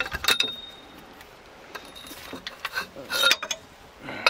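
Wrench with an extension loosening a screw on a BMW E91 during axle replacement, a few sparse close metallic clinks and ratchety clicks separated by quiet stretches.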